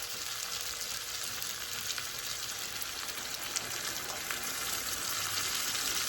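Beef broth poured into a hot skillet of hamburger steak and onions, setting off a steady hiss and sizzle that stays fairly even and moderately quiet, with no talking.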